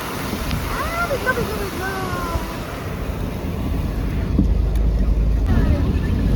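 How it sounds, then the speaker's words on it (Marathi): Heavy downpour drums in a thick, steady wash of noise heard from a vehicle while driving, swelling into a deeper rumble toward the end, with brief vocal sounds near the start. "कसला जोरदार पाऊस आहे बघा."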